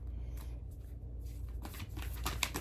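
A deck of cards is shuffled close up with a steady papery riffling and rustling, growing busier and more crackly toward the end, with no talk over it.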